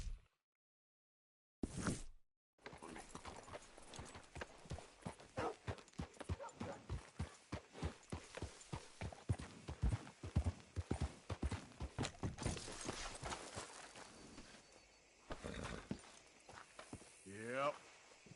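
Hooves clip-clop in a PS4 video game, steady walking beats that pick up briefly to a quicker pace. A voice talks over parts of it.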